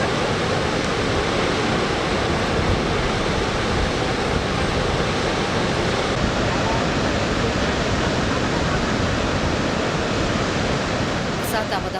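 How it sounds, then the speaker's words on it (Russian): Niagara Falls thunders in a steady, dense roar of falling water, broad and unbroken, continuous and loud throughout with no other sounds standing out. "Ниагарские водопады – это водопад Подкова, иногда еще называемый канадским водопадом, американский водопад и водопад Фата."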